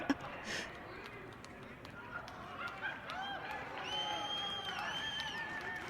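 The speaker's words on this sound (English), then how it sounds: "Listen to how delayed that cheer is." A video-game crowd cheers after a home run in Winnie the Pooh's Home Run Derby, a steady wash of cheering and whooping swelling in the second half with sharp tonal game sounds layered over it.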